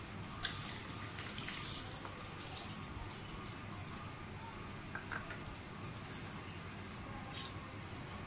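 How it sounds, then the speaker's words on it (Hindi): Rice is poured into a pot of boiling water while making cumin rice: faint bubbling and a soft, scattered patter of grains landing, heard quietly at close range with no speech. "अब साथ ही इसमें चावल डाल दें।"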